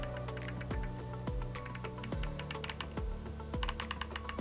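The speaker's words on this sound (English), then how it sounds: "really nice clicks on this tactical turret here" Tactical turret of a Sightron SIII 10-50x60 long range rifle scope being turned, producing a series of crisp, close, evenly spaced clicks, quiet and unaccompanied by speech.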